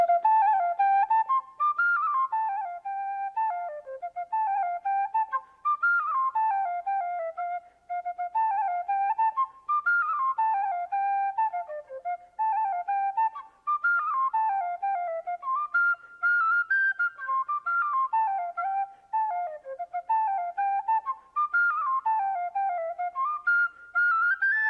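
Tin whistle playing the traditional Irish song The Girl That Broke My Heart, a continuous lilting solo melody with ornamented, flowing phrases, close and steady, with no voices.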